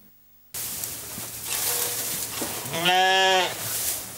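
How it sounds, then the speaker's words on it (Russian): Sheep and rams on a small farm bleat as a lone farmer brings hay and water in the morning; a loud, wavering bleat stands out over steady barnyard background noise. "фермер-одиночка Сергей Аганеев спешит покормить и напоить своих овец и баранов"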